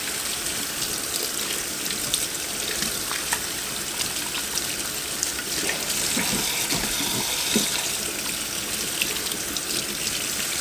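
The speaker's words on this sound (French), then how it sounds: "je rince" Homemade butter rinsed by hand under a running kitchen tap, a steady close gush of water with faint splashes and squelches of the butter being worked, no voices.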